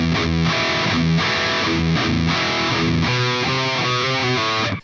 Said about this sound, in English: Then we're gonna do a little hammer-on pull-off with 1 pick.